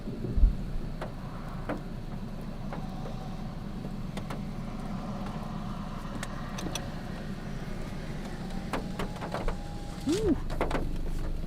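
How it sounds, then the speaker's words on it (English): A supercell thunderstorm over southwest Oklahoma: steady rain patters under low, rolling thunder rumbles, with scattered sharp crackles and a passing car hum in the background. "So we're just going to listen to some lightning and thunder."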